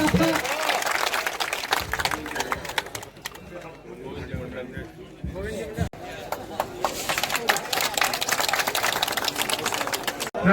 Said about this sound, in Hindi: अभियान को जोरदार तालियों से एक बार स्वागत